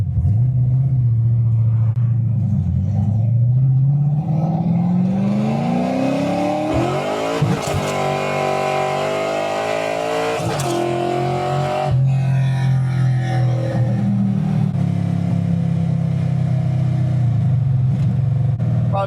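A Ford-powered car running on E85 fuel drives and revs hard, its engine note climbing and dropping through several loud pulls, with roaring acceleration and a rumbling idle close by and no talking.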